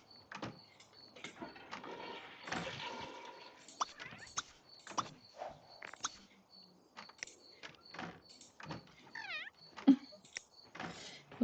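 A cat in The Sims 3 gives short meows among scattered clicks, taps and game sound effects, with brief, uneven sounds spread through the stretch.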